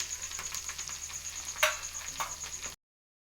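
Fenugreek and rosemary drop into hot oil, giving a light crackling sizzle broken by scattered sharp pops and ticks, with one louder burst partway through before the sound cuts off abruptly.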